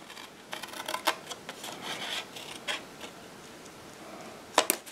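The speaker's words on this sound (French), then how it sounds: "on va aller découper le long de la ligne du carré central de la découpe" Scissors cutting cardstock along the central square line of a die-cut piece for a small rounded Stampin' Up! keepsake box, heard as soft close rasping and snipping strokes with a sharper snip near the end, no voices.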